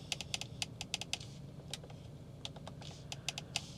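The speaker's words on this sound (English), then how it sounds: "The buttons are extremely clicky." Buttons on the steering wheel of a 2024 Acura Integra A-Spec are pressed in quick, crisp clicks, several rapid bursts then single taps, close and quiet inside the cabin.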